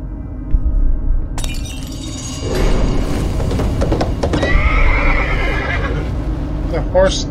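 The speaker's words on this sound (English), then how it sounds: "Horse." A horse neighs and whinnies loudly in the horror video game Layers of Fear, with glass shattering and eerie game ambience around it and a sharp whinny near the end.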